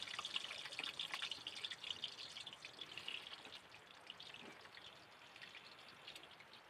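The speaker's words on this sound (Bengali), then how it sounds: "আলু ভাজতে বসিয়ে দিয়ে" Potatoes frying in oil left over from browning onions for biryani, a faint steady sizzle with soft crackling pops, fading slightly toward the end.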